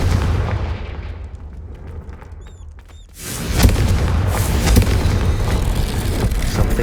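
A Confringo spell in Hogwarts Legacy goes off as a loud booming explosion after a brief quieter lull with faint magical chimes, followed by a sustained rumbling blast and crackle.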